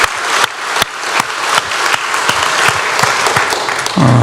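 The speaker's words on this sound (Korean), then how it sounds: "우리 다시 한번 힘차게 박수하겠습니다." A church congregation claps loudly and steadily, a dense, close round of applause that carries on for several seconds.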